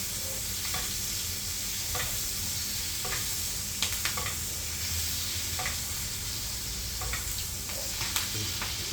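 A ribeye steak sizzles steadily in a hot pan as it is basted, with a constant frying hiss broken by several brief louder spits and pops, close and fairly quiet with no voices.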